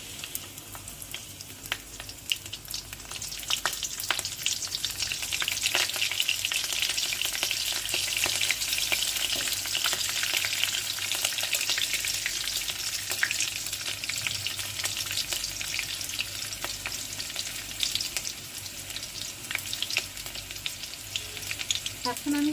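Slit green chillies dropped into hot oil for Bengali shorshe ilish, giving a steady, loud, continuous sizzle with faint stirring clatter throughout and no talk.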